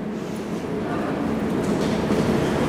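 Interior of a moving train: a steady, dense rumble of wheels and carriage noise fills the whole stretch without a break, and a voice speaks faintly within it.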